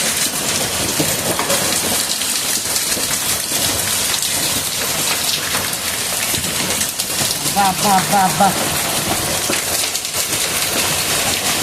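Heavy rain and hail pound down in a steady, dense roar, while a voice calls out repeatedly over the downpour.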